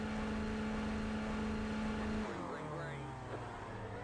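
A Renault Clio engine in iRacing holds high revs at the start of a race at Knockhill, a steady loud drone that then drops and shifts as the car launches away, with talk over it.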